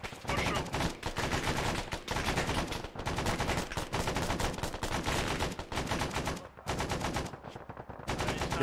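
Rapid bursts of automatic gunfire from a co-op first-person shooter, loud and dense, with short gaps between volleys over about eight seconds.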